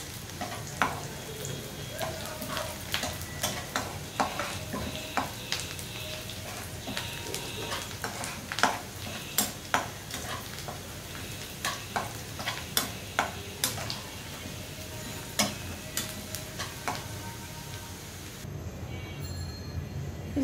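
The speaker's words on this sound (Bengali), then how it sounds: "এখন এই যে ডালে পেঁয়াজ দিয়ে এখন তেলটা দিয়ে দিব" Mustard oil and onion tempering for dal sizzles in a pan, a constant hiss overlaid with regular sharp taps and scrapes of a utensil.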